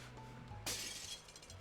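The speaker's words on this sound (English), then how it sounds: "the sound effect made it sound like he threw it through glass?" Glass shatters as a sound effect in the video game Code: Realize, a single sharp crash with a short tinkling tail over a low background hum.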